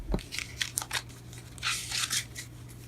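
Tarot cards spilling onto a table during a reading, a quick run of papery flicks and slaps followed by a brief rustling shuffle, close and fairly soft.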